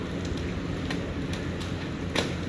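Steady rain falls outdoors, a soft continuous hiss with scattered faint drips and taps, and no talk.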